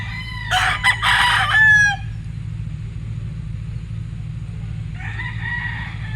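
A Nelson's gray gamefowl stag crows once loudly and close, followed by a quieter, shorter call from another bird a few seconds later over a low hum.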